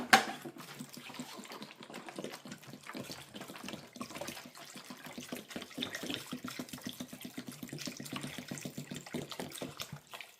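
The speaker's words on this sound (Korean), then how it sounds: "자, 그리고 물을 이제 부어줍니다." Water pours in a steady trickling, splashing stream into a container of dongchimi, a Korean radish kimchi made with nuruk, heard close and fairly quiet with no one speaking.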